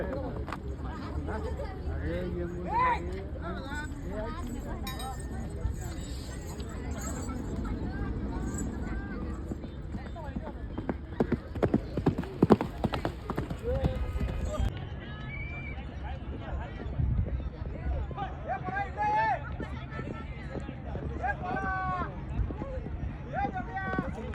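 Horse hooves clatter over a steady crowd murmur at Mahabaleshwar, with scattered excited voices and occasional shouts throughout.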